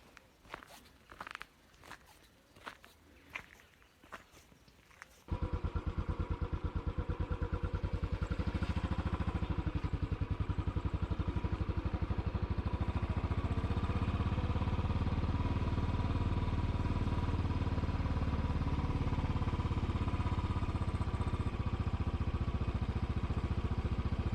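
Motorcycle engine running steadily while riding through the Gloucestershire countryside near a Saxon chapel, loud and close after a few seconds of footsteps and clatter.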